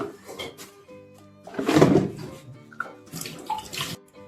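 Soaked tamarind is lifted out of its soaking water by hand in a home kitchen. Close, soft splashes and drips come in several short bursts, with one fuller slosh in the middle.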